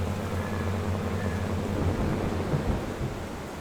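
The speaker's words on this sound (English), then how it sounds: "it sounds like I got a thunderstorm coming through" A deep, rolling rumble of thunder from a passing thunderstorm in a farming simulator game, with a low sustained drone and rain-like hiss underneath, fairly loud and continuous with no talking.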